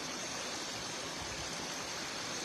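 Flowing river water bubbles and rushes steadily as a constant broadband wash at fairly low level, at a fishing spot where fish gather, with no voices.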